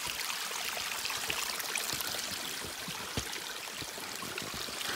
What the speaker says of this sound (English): Climbing up a stream of water.